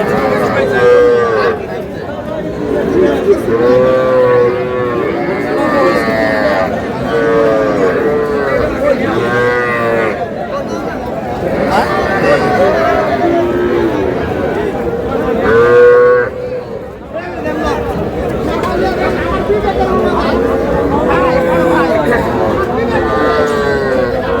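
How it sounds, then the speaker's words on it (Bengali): Several three-month-old bull calves moo repeatedly, loud and close, over a murmur of people talking in the background at a cattle farm in Barishal. "ষাঁড় বাচ্চা"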